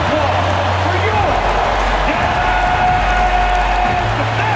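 Steady crowd noise with applause and cheering filling a large basketball arena in NBA 2K26 during starting lineup introductions, continuous throughout, with a low rumble underneath.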